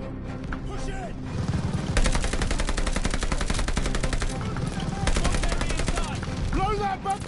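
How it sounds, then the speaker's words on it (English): Sustained machine gun fire in a World War II battle from Call of Duty: Vanguard, rapid evenly spaced loud bursts lasting several seconds with short pauses, under distant shouted commands and battlefield noise. "Need to deal with that MG!"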